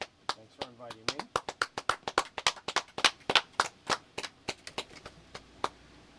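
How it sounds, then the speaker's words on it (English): A small live audience claps at the close of a podcast taping: sharp, uneven individual claps close by for several seconds, with a brief voice near the start. "Applause."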